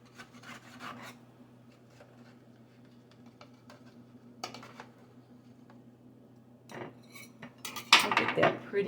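A knife cuts apple pecan coffee cake in a baking pan, making quiet scraping and rasping strokes with a few soft taps, then louder metallic scrapes against the pan near the end, close and without talk.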